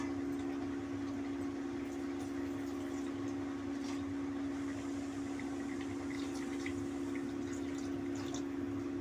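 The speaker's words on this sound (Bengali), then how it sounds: "জল দিয়ে দেবো।" Water is poured into a cooking pot of Bengali-style bottle gourd with prawns, a steady unbroken rush that lasts the whole time over a constant low hum, with no voices.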